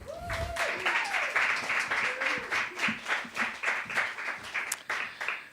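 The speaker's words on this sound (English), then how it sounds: "Round of applause for Matthew Gellman." An audience at a poetry reading applauds for a poet, with steady, moderately loud clapping in a pulsing rhythm and a voice speaking over the start.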